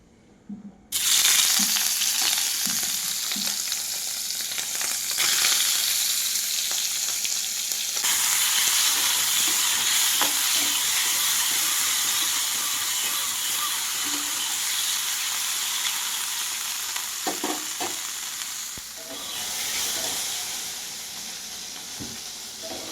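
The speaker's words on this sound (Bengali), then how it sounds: "তো চলো এবারে মাশরুমগুলোকে ভেজে নিব।" Mushrooms frying in a wok hiss with a loud, continuous sizzle that surges when they go in, stirred now and then with soft scrapes and clatters close by.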